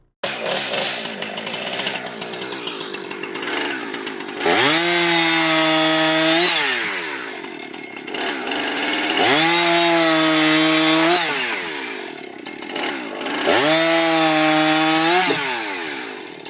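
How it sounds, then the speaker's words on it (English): A chainsaw cuts through a log in loud, close bursts, revving up and holding a high snarling whine three times with rougher idling between, and no voices. "The chainsaw snarls with rhythmic growls"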